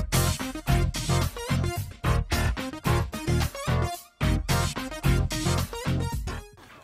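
An upbeat track from the Sega Rally 2 soundtrack plays loud, with punchy driving beats and choppy rhythmic stabs in a steady groove, with no voices.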